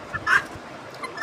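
Chinese ducks on a farm giving a few short nasal calls close by, one louder call near the start and softer ones after it, with quiet gaps between them.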